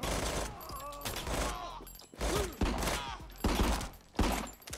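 Bursts of gunfire crack and rattle in a Call of Duty-style slow-motion breach shooter, several separate volleys with short gaps between them, loud and close.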